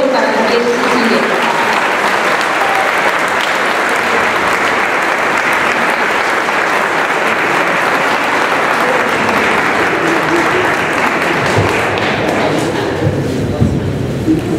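A large audience at a public forum delivers loud, steady, prolonged applause that fills the hall without letup, with scattered voices beneath it near the end.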